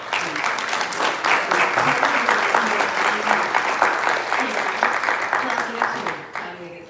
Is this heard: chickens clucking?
no